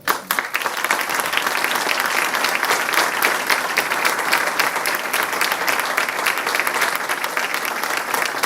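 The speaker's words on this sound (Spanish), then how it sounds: "para quienes voy a pedir un aplauso" Full, sustained applause from a large audience at a formal ceremony honouring women, dense clapping rising quickly and holding loud and even throughout, no talk over it.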